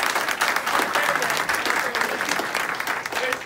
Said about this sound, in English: let's all give him a round of applause for the work he's been doing bringing fire gear to Bimini